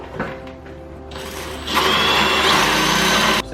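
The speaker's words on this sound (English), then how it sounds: "Second hole drilled" Power drill boring a hole in a wall while installing an iDry unit, the motor winding up into a loud, steady whine that holds for about two seconds before cutting off.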